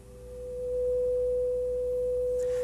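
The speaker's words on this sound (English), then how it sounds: "displayed down here is a 500 hertz sine wave" A pure 500 hertz sine wave from a signal generator fades in and holds as a loud, steady, unbroken tone for a couple of seconds in a lecture hall demonstration, with no talking.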